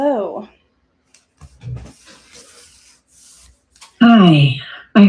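A long, airy breath drawn in and let out between bits of speech, soft and close, with a voice before and after it.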